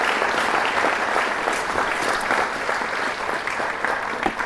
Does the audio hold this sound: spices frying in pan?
no